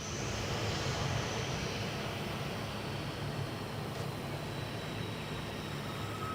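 An airliner lands at Gold Coast Airport with thrust reversers deployed, giving a loud, steady broadband engine roar that holds level throughout without speech.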